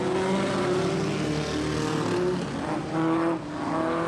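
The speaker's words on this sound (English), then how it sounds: "The Edmonds Autocraft ex-Mel Kenyon 43 car" Vintage Edmonds Autocraft speedway race car, an ex-USAC machine, at a speedway meeting, its engine roaring loud and steady for about four seconds with a slight dip and swell as it passes, with no voices heard.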